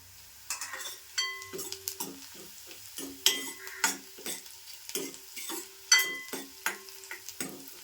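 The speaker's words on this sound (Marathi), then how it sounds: "आता मी मिरची पण टाकते फोडणीमध्ये" Green chillies frying in an onion tempering for Malvani horse gram pithi, with gentle sizzling under sharp, irregular clinks and scrapes of a metal spoon against the pan, close by, with no talking.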